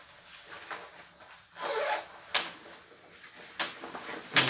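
Zippers on the pockets of a women's windproof, waterproof membrane jacket are pulled in several quick, close rasping strokes, with soft fabric rustle between them.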